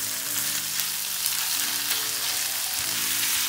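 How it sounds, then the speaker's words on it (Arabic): Strips of chicken breast fry in a pan with onion for chicken shawarma. A loud, dense sizzle runs without a break, with faint stirring underneath and no talking. "انا باغا ننزل الدجاج، الطريفات ديال صدر الدجاج"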